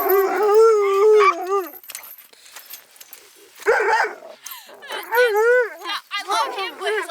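A young, excitable sled dog howls and barks in long wavering cries, loud and close, with a short pause before another burst of yowling yelps.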